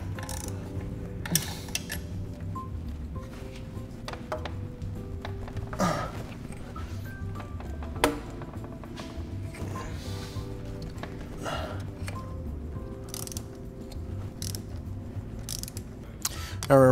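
Ratchet tightening bolts on a BMW 335i N54 turbo, a steady close mechanical clicking and whirring under constant hum, with occasional sharper knocks as the wrench is cranked down.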